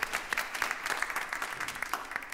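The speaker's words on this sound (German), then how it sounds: "Applaus bitte" A concert audience at a live orchestra event claps in a dense, fairly close burst of applause that holds steady for a couple of seconds.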